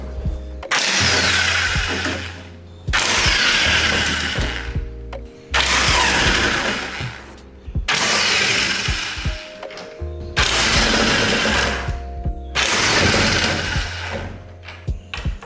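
A power tool loosens 13 mm strut brace bolts on a BMW F80 M3. Six loud, close whirring bursts of about two seconds each are split by brief pauses, with no talk.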